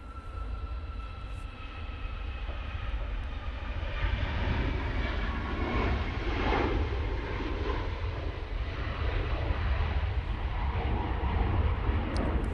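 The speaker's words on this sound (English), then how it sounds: "Ryanair 737 MAX 8 now rotating." Ryanair Boeing 737 MAX 8 taking off from Manchester Airport, a steady broadband jet rumble building after the first few seconds and holding at moderate loudness from a distance.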